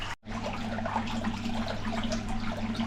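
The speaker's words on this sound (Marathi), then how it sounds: "आणि आता यो पाणी टाकतोय" Steady stream of water pouring into an aquarium fish tank during cleaning, a continuous close splashing wash with a low constant hum underneath, no talking.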